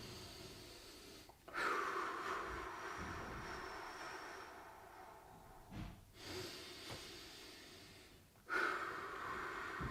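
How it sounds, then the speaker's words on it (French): Slow breathing during a gentle seated stretching exercise: three long, deep breaths come through close and clear, each a broad rushing inhale or exhale, with quiet pauses between them. "On est parti pour 3 respirations."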